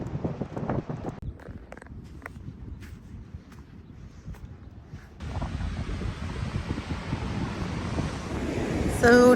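Ocean waves at a beach wash in under gusty wind noise on the microphone, soft at first, then swelling into a louder, fuller surf rush in the second half.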